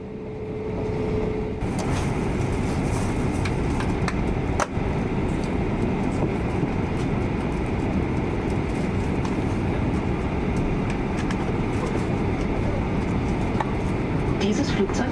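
Lufthansa Airbus A340-600 taxiing out to runway 18 at Frankfurt, heard from inside the cabin as a steady, loud rumbling drone of engines and airframe that continues throughout, with a single brief knock partway through.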